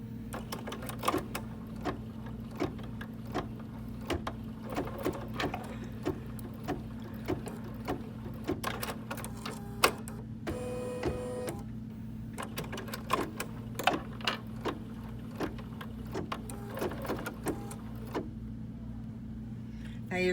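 Home embroidery machine stitching placement tacks, a quick mechanical ticking and clattering of the needle over a steady motor hum, moderately close, with brief pauses between runs of stitches.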